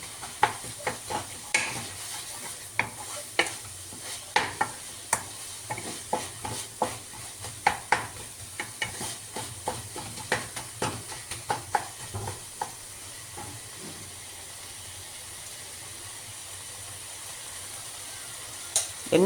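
Tomatoes frying in a pan in a home kitchen, stirred with a spoon that scrapes and clinks in irregular bursts over a low, steady sizzle, close and moderately loud, with no talking.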